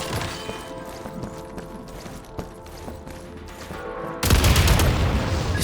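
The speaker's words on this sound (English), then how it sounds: "Shoot the explosives to detonate them and clear the path." Explosives detonated by gunfire in Genshin Impact's Shadow Realm, clearing a blocked path; a sudden loud blast near the end follows a stretch of quieter game ambience and scattered shots.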